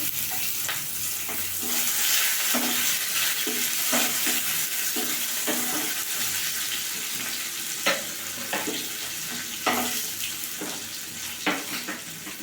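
Grated ginger and chopped tomato frying in a pan for a vegetarian papad and chhana dish, with a steady sizzle under repeated scraping strokes of a spoon stirring the mixture, close and clear.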